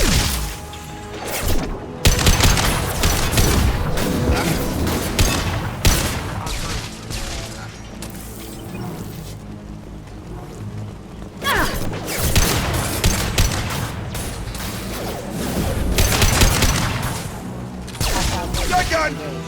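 Shotgun blasts in the video game Mass Effect 2 boom out in heavy, irregular bursts amid crashing impacts and combat noise, loud and close, with quieter gaps between volleys.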